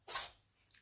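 A single short sneeze bursts out close and sharp, fading quickly with a faint breathy trail afterward.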